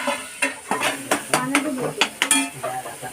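Onion and tomato cooking in a pan for paneer bhurji. A spoon stirs and scrapes in repeated clattering strokes over a light sizzle.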